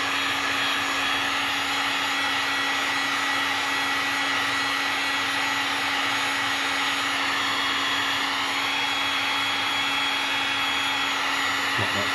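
XU1 heat gun blowing steadily on heat shrink over a UHF CB radio cable during an install, a loud continuous fan-and-airflow roar with a constant hum running unbroken throughout.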